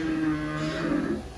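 A child imitates a donkey with a single drawn-out, voiced braying call that lasts about a second and a half before trailing off, with no other sounds around it.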